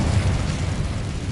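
Incendio fire spell cast in the video game Hogwarts Legacy, a loud, sustained fiery whoosh and rumbling burst lasting just over a second.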